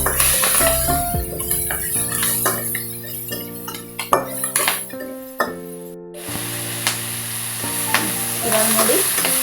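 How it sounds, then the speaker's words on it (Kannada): Capsicum fries with turmeric powder in a pan, a constant loud sizzle broken by repeated scraping stirs and clinks of a spoon against the metal, close up and without talking. "ಇದನ್ನ ಚೆನ್ನಾಗಿ ಫ್ರೈ ಆಗ್ತಾ ಇದೆ"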